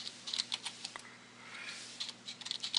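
Keys clatter on a computer keyboard as a SQL Server restore command for the master database is typed out, a quiet run of uneven clicks with a brief pause midway and a quicker burst at the end.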